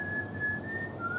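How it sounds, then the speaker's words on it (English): A single close whistled tone holds almost steadily and then dips slightly in pitch, a creepy tune carried over a low background hum. "He's whistling a creepy song."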